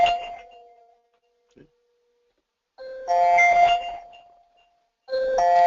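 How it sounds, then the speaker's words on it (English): A cell phone rings with an incoming call, a tonal chime sounding in two bursts separated by a pause, close and clear with no talk over it. "that's a call coming in on my cell phone."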